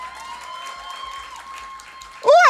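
An audience claps steadily at a motivational leadership talk, a moderate crowd texture under a sustained tone, ending in a sudden loud vocal outburst.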